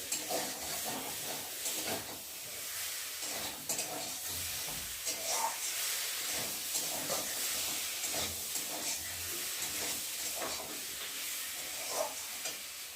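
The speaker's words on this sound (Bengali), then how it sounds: "তো দেখো আমি এখন সবজিটাকে ভালো করে কষিয়ে নিচ্ছি।" Vegetables sizzle and hiss in a hot pan as they are sautéed for a rohu fish curry, with repeated soft stirring scrapes throughout and no voices.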